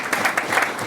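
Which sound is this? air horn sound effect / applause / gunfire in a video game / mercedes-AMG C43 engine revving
applause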